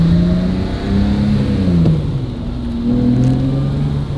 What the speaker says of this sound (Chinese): 试一下提速。